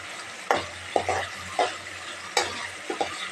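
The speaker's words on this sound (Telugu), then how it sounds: "ఇప్పుడు మనం రైస్ కలుపుకున్నాము" Rice stirred in hot oil with tamarind pulp and onion in a pan, a close, steady frying sizzle broken by a series of sharp spoon scrapes and clinks at irregular intervals.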